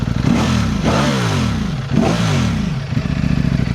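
Ducati V4 motorcycle engine, a Streetfighter V4S or Panigale V4 SP with a dry clutch, revved twice in quick succession, each rev sweeping up in pitch and falling back to a rough, clattery idle, loud and close.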